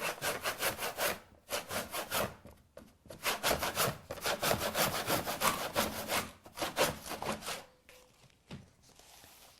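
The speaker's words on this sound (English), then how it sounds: "take your handsaw out now, and what we're going to do is we're basically going to cut right at exactly the right height" A handsaw cuts through wooden door trim right at floor height so new flooring can slide underneath. Steady back-and-forth rasping strokes come in several close bursts with brief pauses, then trail off near the end.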